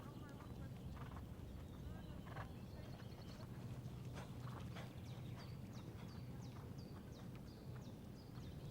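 A horse's hooves clip-clop in a steady walking rhythm, soft and moderately distant, while a rider juggles on its back; birds chirp faintly, with a quiet voice in the background.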